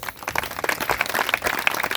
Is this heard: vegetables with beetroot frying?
no